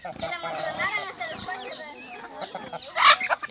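Hens and roosters cluck and squawk close by in a busy run of calls, with a louder squawk near the end.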